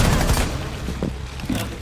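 Gunfire from the tactical shooter game Rainbow Six Siege, a short burst of shots followed by a few scattered, fairly close reports over a busy, noisy game background.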